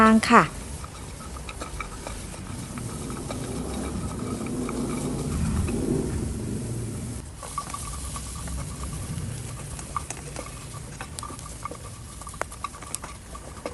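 Chilies, garlic and shallots dry-roasting in a pan over medium heat make a steady, dense patter and light crackle, with a voice talking over it.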